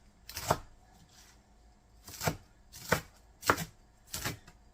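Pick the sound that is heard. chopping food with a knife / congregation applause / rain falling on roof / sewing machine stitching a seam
chopping food with a knife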